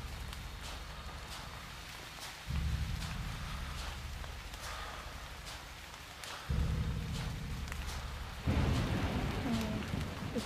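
Steady rain in the horror video game HAUNT, broken by deep rolls of thunder that swell in twice, loud and close, with a heavier downpour near the end.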